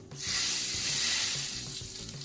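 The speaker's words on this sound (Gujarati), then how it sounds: "હવે આ વઘારને આપણે ચટણી પર સ્પ્રેડ કરી દઈશું" Hot ghee with crackling cumin seeds is poured over a farali chutney and sets off a loud, hissing sizzle that swells at once, then slowly settles, close up with no talk.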